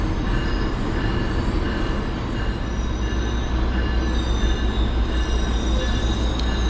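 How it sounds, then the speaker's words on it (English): A passenger train pulls into Union Station, its rail cars rumbling loudly with steady wheel noise and thin squeals of braking wheels, close by and continuous. "the conductor is spotting the train so that the ramp will line up across the way"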